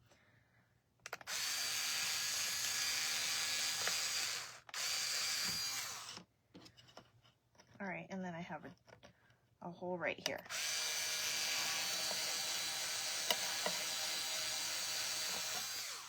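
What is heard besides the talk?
power drill re-drilling holes in a sign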